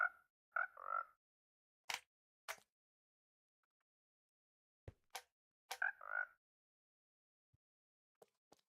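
Frogs in the Minecraft modpack Sky Frogs give several short, separate croaks, spaced among sharp clicks and silence. They sound clear and close.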